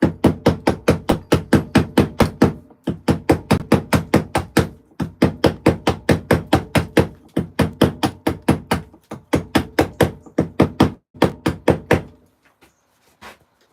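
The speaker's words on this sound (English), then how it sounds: "Nylon, this hammer. This is a nylon hammer." A nylon hammer tapping repeatedly, loud and close, in quick steady runs of blows with short pauses between groups before falling silent.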